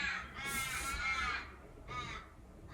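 Crows caw on Rottnest Island, off Perth, in two harsh calls: a long, loud one and then a shorter one at moderate distance, with no talking.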